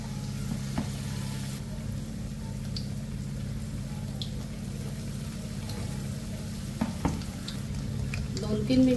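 Coated chicken lollipops dropped one at a time into hot oil, frying with a steady low bubbling hiss and a few soft splashes and clicks, fairly quiet and close, with no talking.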